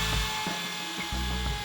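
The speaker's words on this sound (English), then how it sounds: "3 brad point bits coupled by gears drill 3 holes at once" A steady, close motorized whine of a doweling jig drilling three holes at once with gear-coupled brad point bits, with brief cutting bursts repeating roughly every half second.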